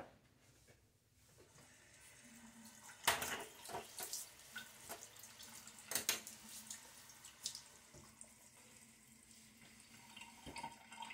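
Tap water runs steadily at a sink as hands splash it onto the face before a wet shave, with several sharper splashes and drips rising over the continuous flow.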